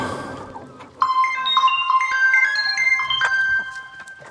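A melodic electronic phone ringtone in a tense crime drama scene, playing alone and loud as a bright tune of rising and falling beeping notes for about three seconds after a brief low murmur.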